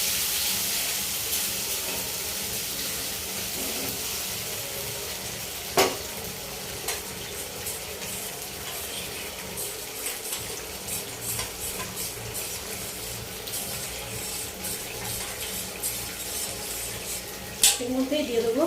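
Cornflour slurry is stirred in a pan for Indo-Chinese crispy chicken, giving a continuous close sizzle with soft stirring scrapes and a couple of sharper utensil knocks.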